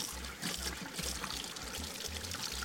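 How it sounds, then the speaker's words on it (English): Cold water poured and splashing during a face rinse, a soft steady trickle with brief gurgling pulses, close and fairly quiet with no talking. "Now I'm gonna take the cold water and rinse my face for one last time."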